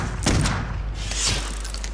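A few heavy gunshot thumps ring out in Clive Barker's Undying, close and loud with a short echoing tail, spaced irregularly across a moment of play.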